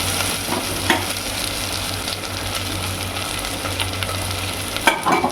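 Vegetables with turmeric sizzle steadily in a pan, a continuous close frying hiss with occasional stirring scrapes and light clinks.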